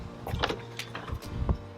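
The door of a 2021 Lamborghini Huracan EVO Fluo Capsule is unlocked and opened: a few quiet, close mechanical clicks and a short whirr and latch release, with no talk.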